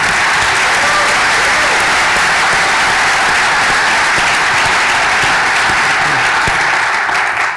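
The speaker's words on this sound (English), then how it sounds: "I should have waited for the applause." An audience breaks into sustained applause at a talk on the Jewish state, a thick, loud roar of many clapping hands that holds steady and begins to thin only at the very end.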